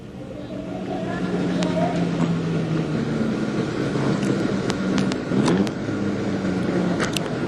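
A National 4s speedway race car on a lap of honour at Gympie Speedway after the final, its engine droning steadily with wind buffeting the microphone and a voice talking over it.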